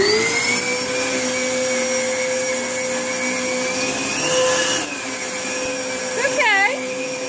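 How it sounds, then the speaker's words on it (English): A vacuum cleaner drones steadily nearby, its pitch shifting slightly, with a brief wavering whine near the end. A dog is present nearby. "Just the vacuum cleaner."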